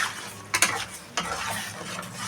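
Paneer sizzling in a hot pan with a little water while being stirred, with a few sharp scraping strokes of a utensil over a steady frying hiss.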